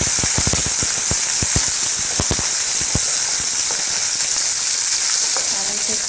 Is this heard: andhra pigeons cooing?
no